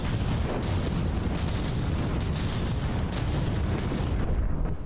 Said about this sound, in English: The shells keep popping in, but too many turrets are still alive.